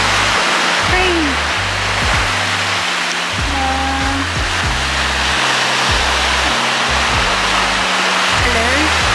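Water rushes in a steady, loud broadband roar like a stream or waterfall near a beach, with faint bird calls and low tonal sounds underneath.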